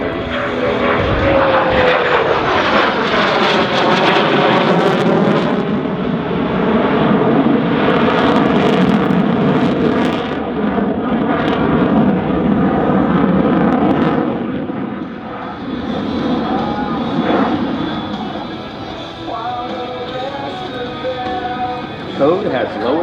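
An F-16C fighter jet flies a rolling pitch-up at an airshow, its engine roar loud and sustained with shifting pitch, easing briefly before swelling again, while an announcer talks throughout.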